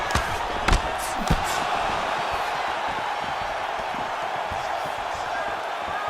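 Arena crowd at an MMA fight between Ilir Latifi and Marvin Vettori, a steady roar with sharp impact-like spikes and surges as the fighters exchange strikes, under a commentator's talk.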